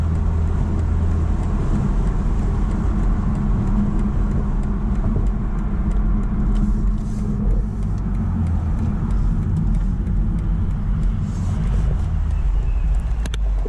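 A 2023 BMW Z4 M40i brakes and swings through a tight U-turn. The cabin holds a constant low road and engine drone with faint ticks and rattles, and no voices.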